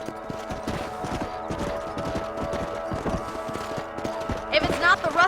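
In Red Dead Redemption, a ridden horse's hooves clip-clop at a steady trot, close and continuous, while a character speaks over it.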